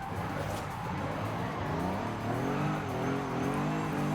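A drift-build car driven in Forza Horizon 5 holds a steady engine drone with a continuous tire hiss, staying close and even for the whole stretch.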